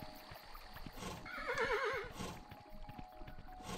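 Horse in the video game Kingdom New Lands gives a wavering whinny in the middle of the stretch, heard over soft clip-clop hooves and low game ambience, with no speech.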